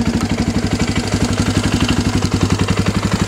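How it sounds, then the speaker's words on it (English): Engine of a 2007 Polaris Outlaw 525 IRS ATV idles close and loud with a fast, even, lumpy single-cylinder thump, steady throughout with no talking. "this is starting without any choke, just giving a little bit of gas."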